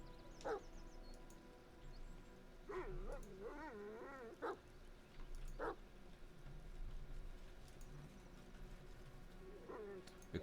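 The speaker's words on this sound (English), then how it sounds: "The wolf runs up to him and sits near, whimpering." A wolf whimpering in the fantasy role-playing game Pathfinder: Kingmaker, with a few short, high whines and yips set apart over steady game ambience, heard fairly close and not loud.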